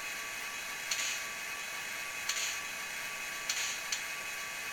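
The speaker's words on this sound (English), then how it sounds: "Air pumps." Air pump effect from a Digitrax SDH164D sound decoder in a Southern SD35 model diesel locomotive, soft regular hissing chuffs repeating about every second and a half over a steady faint background hum.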